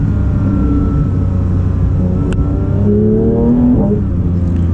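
A Porsche 992 GT3 engine with sport exhaust idles and revs, throaty, loud and close, the pitch climbing briefly before settling.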